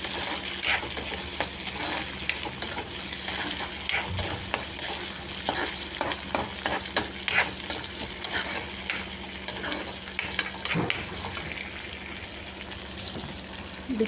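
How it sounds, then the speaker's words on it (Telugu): Curry leaves stirred through hot oil in a pan, a steady close sizzle with scraping spoon strokes and brief crackles running throughout, no voices. "కరివేపాకు అన్నీ కొంచెం ఆయిల్లో డిప్ అయ్యేలాగా కలుపుకోండి."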